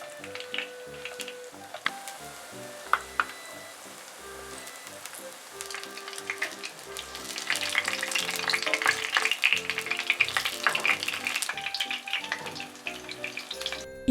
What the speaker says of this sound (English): Fry them on medium-low heat for about 3 to 4 minutes per side.